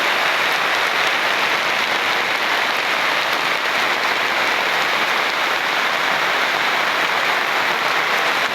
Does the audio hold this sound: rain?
yes